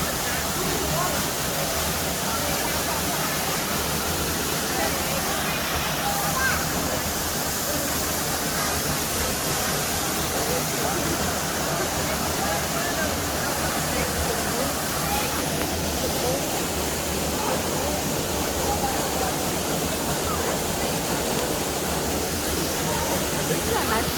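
Steady broadband rush of cold stream water flowing past rocks, continuous and fairly loud for the whole stretch, with no talking.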